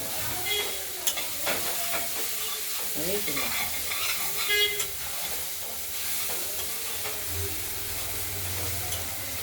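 Chopped cauliflower and peas frying in a kadai, a steady close sizzle and hiss broken by scraping and stirring strokes of a spoon against the pan, with no talking.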